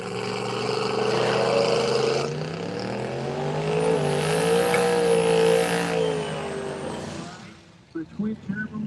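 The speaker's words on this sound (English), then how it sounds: "The twin turbo charged Nova out of Texas." A twin-turbocharged Chevrolet Nova from Texas at a drag strip, its engine roaring loudly with rising and falling revs under an announcer's voice and fading toward the end.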